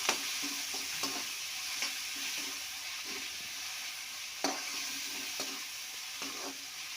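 Finely chopped tomatoes with turmeric powder fry in a pan, giving a steady broad sizzle. Periodic scraping stir strokes cut through it, with a sharper clatter near the middle.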